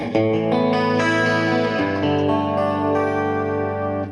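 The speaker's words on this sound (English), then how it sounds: "You have a clean sound setting" An electric guitar rings out chords with a shimmering chorus effect, sustained and full, played alone.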